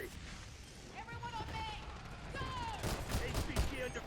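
Dual Akimbo GS45 pistols fire in a video game, bursts of rapid gunshots building toward the end, mixed under ongoing game sounds and talk.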